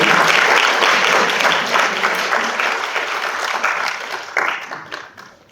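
A church training session audience claps warmly for two evangelists called to the front: a loud, dense burst of applause that gradually thins and fades, with a brief swell just before it trails off.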